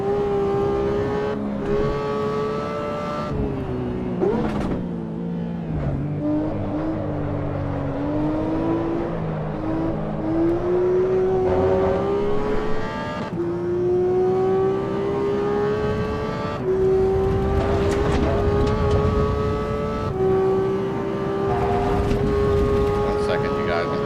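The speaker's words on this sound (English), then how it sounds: "That flat 6 in a Porsche is spot on in this Cayman." A Porsche Cayman's flat-six engine revs hard in a racing video game, its steady rising tone climbing and shifting through gears as it accelerates, loud and close, with someone talking over it at times.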